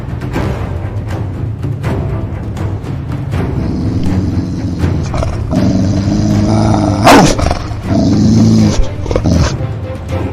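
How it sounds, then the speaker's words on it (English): A dog growls and snarls loudly and close, in a continuous rough rumble that swells and breaks into harsher bursts toward the end, with no talking over it. "That dog got teeth, baby."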